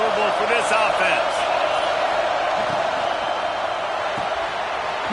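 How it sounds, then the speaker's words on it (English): Stadium crowd noise in the College Football 26 video game, a dense continuous roar filling the background while a commentator talks over it. "This crowd trying to make life miserable for this offense."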